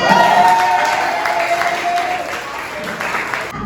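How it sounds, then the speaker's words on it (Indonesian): A burst of group applause, loud and close, clapping steadily for a few seconds before stopping abruptly. "Oke, tepuk tangan dulu kalian."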